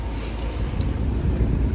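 A sailboat motors along at sea on a passage off the Pacific coast of Mexico, with a steady low engine drone mixed with wind buffeting the microphone and water rushing past the hull.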